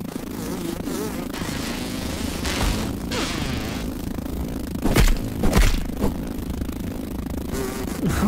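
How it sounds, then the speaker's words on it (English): Mosquitoes buzzing in the survival video game Grounded, a dense, loud insect drone that runs throughout, with sharper scrapes and impact bursts from combat near the five-second mark. "Sounds like mosquitoes want to party now."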